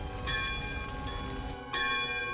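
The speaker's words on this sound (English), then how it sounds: "Is the raiding bell sound very clearly different than the visitor's bell?" A raiding bell rings out in the One Piece anime, two loud metallic clangs about a second and a half apart, each ringing on with a long shimmering decay over a steady background hum.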